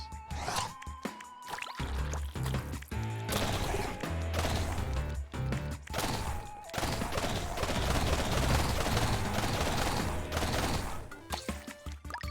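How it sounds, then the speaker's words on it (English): Shotgun blasts and bullet impacts in a primitive-styled Cultist Sim game, coming as dense, repeated crashing bursts over a continuous busy layer of game sound, loud and close. "Shotguns."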